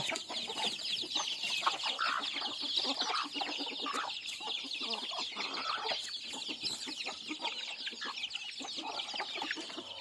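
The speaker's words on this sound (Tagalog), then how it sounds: "pakainin ko muna yung mga manok mga boss kasi nagugutom na siguro to" Dense, continuous clucking and high peeping from a flock of chickens and chicks, busy and close, with no talking.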